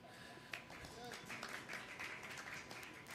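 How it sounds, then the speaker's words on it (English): An audience applauds to welcome back a coach, a faint patter of scattered clapping that runs through the short moment at low volume, with voices mixed in. "everybody applaud Chelsea and welcome her back"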